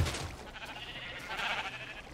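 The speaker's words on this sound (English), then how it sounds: "So, this is the sheep place." Sheep in the Minecraft video game bleat on a semi-automated shearing farm, a steady stream of nasal, overlapping bleats running close and fairly loud throughout without pause.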